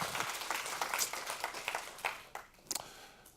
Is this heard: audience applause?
yes